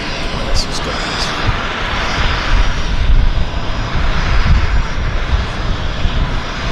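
An Alaska SkyWest airliner passes at Vancouver airport in strong wind, its engines making a loud, broad, steady roar that swells and holds across the whole stretch, with wind noise mixed in.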